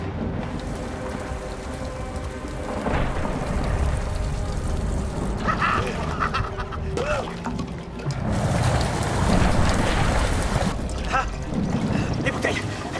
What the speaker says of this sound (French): Les gars, il pleut!